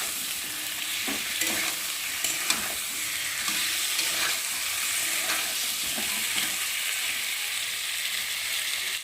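Spice paste of ginger, cumin and chopped tomato sizzles steadily in a hot pan while a spatula scrapes and stirs it in regular strokes, continuous and close, with no talking.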